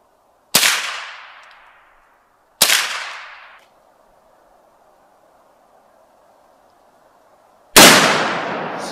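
Three loud gunshots ring out one at a time during target shooting at a rural campsite, each with a sharp crack and a decaying echo. The first two come about two seconds apart and the third follows after a long quiet gap.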